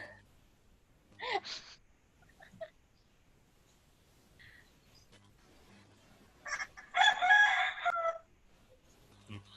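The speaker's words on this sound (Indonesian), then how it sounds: "Nah itu suara ayam dari mana tuh?" A rooster crows twice, the first call brief and the second longer and louder, heard faintly from a distance over a quiet room with scattered small noises.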